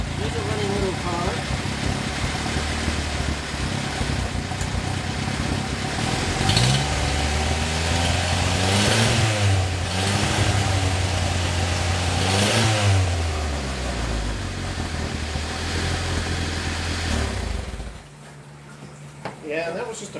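A smoky old Honda car engine revs repeatedly, rising and falling in pitch several times over a steady running idle, close and loud, then drops away near the end.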